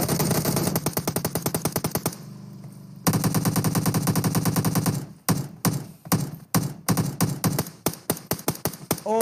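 Rapid bursts of M24 rifle gunfire in the mobile battle-royale game PUBG Mobile, loud and close, with dense volleys followed by a brief lull and then sharp separated shots and short rattling strings.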